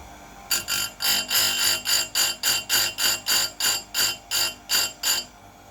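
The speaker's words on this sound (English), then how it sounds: "Start the grinder." An electric grinder sharpens a chainsaw chain in a quick, even series of about a dozen bright, rasping bursts, one per tooth, over a steady motor hum.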